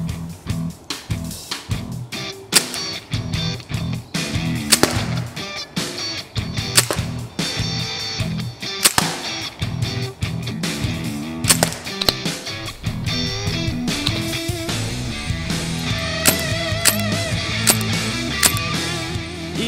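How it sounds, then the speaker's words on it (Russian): Ingram M11 airsoft gas blowback gun fires a rapid string of sharp, close cracks with mechanical clacks, repeated steadily for about twenty seconds with no talking. "Начну я с одиночного огня и закончим мы, разумеется, автоматическим."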